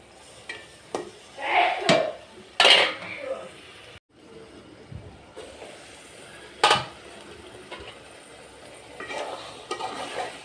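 Eggplant, ridge gourd and potato are stirred in a pan with a few distinct metal scrapes and clinks against a faint frying hiss, fairly quiet, with occasional speech nearby.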